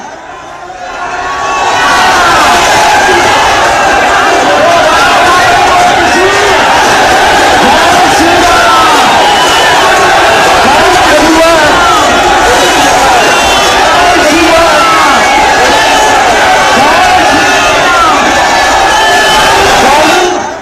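A huge crowd of thousands fills the air with dense, continuous shouting and cheering during Baba Bageshwar's Sanatan Hindu padyatra arriving in Vrindavan, loud and sustained for about twenty seconds.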